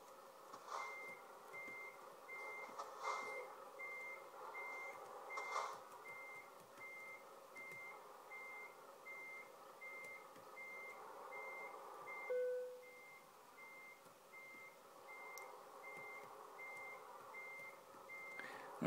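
Simulated Volvo FH16 truck reversing while parking, its backup alarm sounding a steady, evenly spaced series of beeps throughout, over a low engine hum with a brief tonal shift midway.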